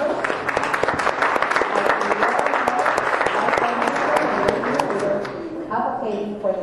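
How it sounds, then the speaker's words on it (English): Audience applause for new members of the Latin Chamber of Commerce at an event, a dense steady wash of many clapping hands that holds loud for several seconds, then thins and fades, with a voice emerging near the end. "So I want to give a round of applause to all these new members."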